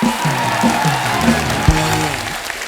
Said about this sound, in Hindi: द नाइट मैनेजर की पूरी टीम के लिए जोरदार तालियां